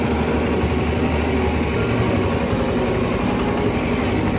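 A tractor engine pulls a cultivator through a ratoon sugarcane field on its first tillage pass, a loud, steady, low rumbling drone that runs throughout with no voices.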